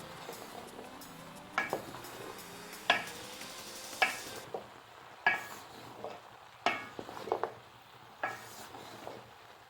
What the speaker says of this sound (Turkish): kaynayan bamyalarımızı şimdi ilk defa yavaş yavaş şöyle bir karıştırıyoruz